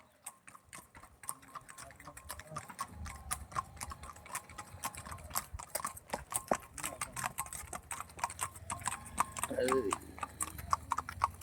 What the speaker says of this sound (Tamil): வக்குடு வக்குடு வக்குடுன்னு குதிரை போகுது